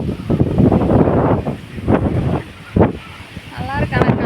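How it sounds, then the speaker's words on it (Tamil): Strong wind sweeps across the rooftop terrace of a house, buffeting the microphone in loud, uneven gusts that rise and fall. A person talks briefly near the end. "காற்று பயங்கரமாக அடிக்கும்."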